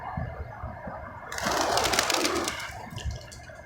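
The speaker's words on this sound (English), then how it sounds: "The massive army of pigeons." A large flock of pigeons gathers on a San Francisco street, cooing softly, then a sudden loud burst of flapping wings rises midway as they take off together before settling back to quieter murmuring.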